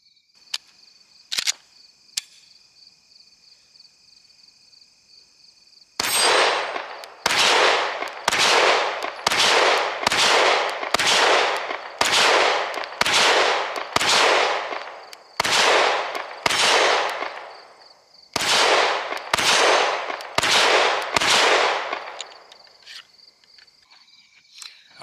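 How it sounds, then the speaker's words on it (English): A Bul Armory Axe Hatchet C, a Glock-clone pistol, fires sharp gunshots outdoors. The shots come in two strings, about ten steady shots and then five more, each a loud crack with a short echo, over a faint insect-like background hum. "So let's take the first shots through this thing and see how it shoots"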